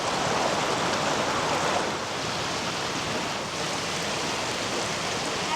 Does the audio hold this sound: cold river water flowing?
yes